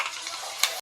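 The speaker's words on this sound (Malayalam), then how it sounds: "ആവശ്യത്തിന് എണ്ണ, ഇനി ഉലുവയിടുക" Fenugreek seeds sizzling in hot oil, a short bright crackling hiss with a sharp pop of spatter just before it cuts off.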